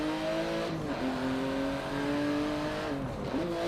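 A 2016 Porsche GT2 RS racing in Forza, its engine loud and close with rising revs, a brief dip at a gear change and a second drop near the end.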